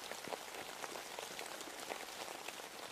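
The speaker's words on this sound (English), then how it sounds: "It is still raining outside just a little bit." Light rain patters on a Kelty military field tent at night, a faint, even hiss dotted with small soft drop taps, steady throughout with no voices.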